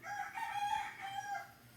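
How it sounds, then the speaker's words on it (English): A rooster crows during a classroom lecture, one drawn-out cock-a-doodle-doo ringing steadily for nearly two seconds at moderate volume, heard alone with no voices over it. "Sorry about the major rooster issues."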